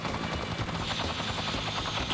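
A helicopter's rotor chops steadily and loudly overhead, a dense, continuous mechanical thrum with a rhythmic beating pulse.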